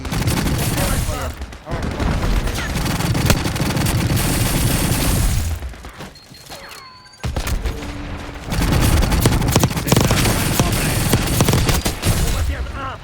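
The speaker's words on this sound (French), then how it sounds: "En plus, je tire dans la tête" Heavy, continuous gunfire from the Resonator X53, a new and unusual weapon in a video game, sounding as dense rapid volleys that dip briefly mid-way before resuming loud and close, with faint voices beneath.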